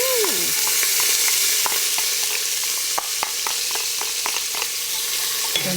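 Onions sizzling in a hot pan for mung bean soup, with a loud, steady frying hiss and repeated spoon clicks and scrapes from stirring.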